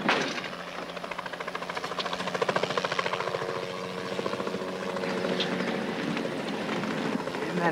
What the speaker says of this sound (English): Isn't that the same chopper we saw before?